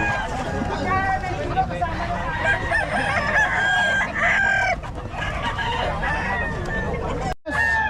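Chickens cluck and a rooster crows at a crowded poultry market, lively bird calls close by amid a background babble of voices and someone talking over them.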